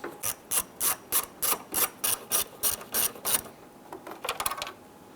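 Hand ratchet loosening 7mm screws behind a panel on a 1995-2001 Ford Explorer, a close, crisp series of about a dozen evenly spaced clicks followed by a quicker, softer flurry of clicks.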